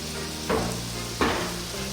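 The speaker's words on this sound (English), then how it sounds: "we're going to cook this for a few minutes, just like 3 or 4 minutes, just kind of let it soften the tomatoes slightly" Tomatoes soften in a pan over a constant close sizzle, with two stirring scrapes about half a second apart.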